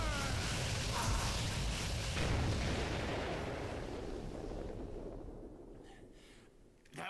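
A big special attack from the No More Heroes: Heroes Paradise video game lands as a loud, sustained explosive roar that rumbles for several seconds, then slowly fades into a thin, airy tail.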